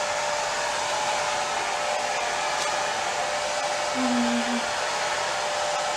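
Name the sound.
hair dryer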